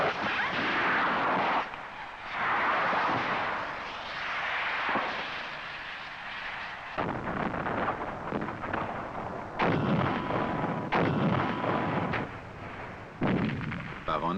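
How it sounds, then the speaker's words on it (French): Heavy gunfire and booming blasts from anti-tank guns and long-range wire-guided missiles go off repeatedly, some sharp and close, others rumbling, in a dense and continuous barrage, from a 1972 Swiss Army infantry combat film. "Les engins philo-guidés à longue portée et les canons anti-chars ouvrent le feu"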